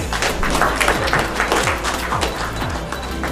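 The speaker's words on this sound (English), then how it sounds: "Let's welcome him with a round of applause" An audience at a book-market report launch applauds to welcome a man onto the stage, a dense, steady wash of clapping from many hands with faint voices underneath.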